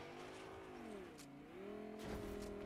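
Car engine in the video game Fortnite revving up and easing off, its tone sliding down and then climbing again, steady and fairly faint with small bursts of noise layered on top.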